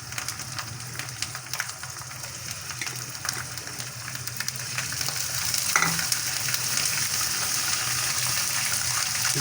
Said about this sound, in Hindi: प्याज लाइट गोल्डन हो गई है तो इसके अंदर हम अदरक लहसुन का पेस्ट ऐड करेंगे।